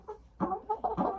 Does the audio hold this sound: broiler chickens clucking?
yes